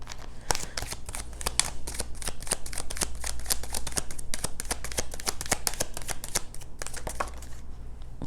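A Kipper fortune-telling card deck being shuffled by hand: rapid, crisp riffling clicks and flutters in quick repeated bursts, close and fairly quiet, alone with no voices.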